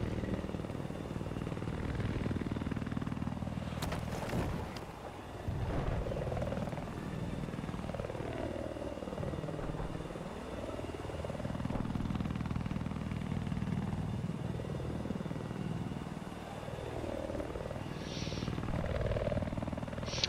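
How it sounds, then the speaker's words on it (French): A helicopter in the Battlefield 4 video game drones continuously through an 8-versus-8 match, its rotor thrum rising and falling as it moves, with occasional faint gunfire-like cracks. "seul pour piloter l'hélico"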